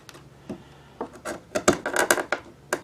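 Chisel chopping down and slicing excess wood at the edge of a tenon while coping the rails of an 18th-century replica door, a series of close, sharp wooden chops and scraping slices, growing denser toward the end.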